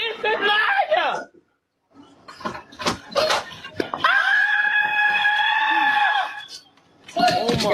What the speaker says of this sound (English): her scream echoing. Oh man, you hear that?